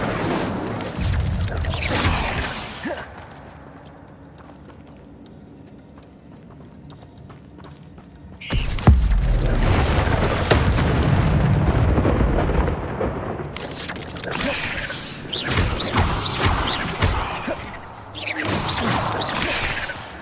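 In Hogwarts Legacy, the Incendio fire spell is cast with loud, roaring bursts of flame and booming impacts, broken by a quieter lull and followed by further crackling blasts.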